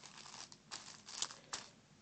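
Plastic storage bags crinkling close up, soft continuous rustling with several sharper crackles, quiet and alone.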